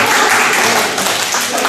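An audience claps together through a talk, a dense and even wash of hands that holds steady for the whole stretch, fairly loud and close, with no voices over it.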